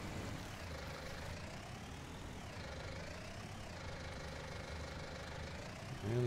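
Tractor engine in Farming Simulator 19, a steady mid-pitched diesel drone that rises and falls slightly in pitch as the engine works, heard alone without talk.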